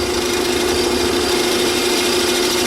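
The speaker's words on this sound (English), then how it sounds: "we want to cut with this part of the gouge" Lathe spinning a rough wet-wood bowl while a turning gouge cuts, a loud, steady, even roar that holds throughout.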